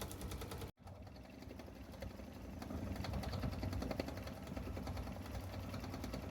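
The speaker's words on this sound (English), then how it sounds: "This is going to be the longest part of the embroidery stitch out" An embroidery machine stitching out a bunny design, running with a rapid, even mechanical chatter of stitches that cuts out for an instant near the start and then resumes steadily, close and low in level.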